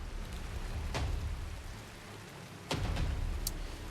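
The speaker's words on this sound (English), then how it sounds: "Shit's kind of rainy." Steady rain hisses in the video game Crisol: Theater of Idols, a continuous wash of falling water at moderate volume with a few sharper splashes, no talking.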